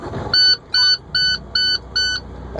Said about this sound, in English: That's my oil pressure notification, just saying that my oil pressure wasn't built up because the motor wasn't running